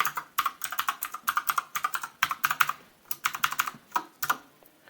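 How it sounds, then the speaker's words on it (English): Fast, uneven bursts of keystrokes on a computer keyboard as a password is entered at a terminal, close and clear, with short pauses between clusters and no voices. "and I'll type in the password here."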